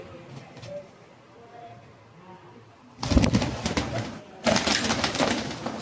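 Jacobin pigeons perch on a hand and feed, quiet soft cooing at first, then two loud bursts of rustling and wing flapping close by.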